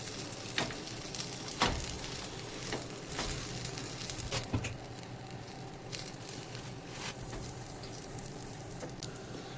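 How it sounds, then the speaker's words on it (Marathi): A street-style veg potato frankie roll toasting on a hot griddle gives a soft, steady sizzle with occasional sharp clicks and scraping taps, fairly quiet and close, with no voices. "त्या बाजूने फ्रँकी ठेवायची तव्यावरती"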